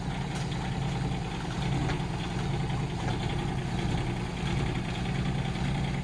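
A Jim's excavator engine idles steadily at low RPM, a continuous low rumble that holds even and fairly close throughout with no voices over it.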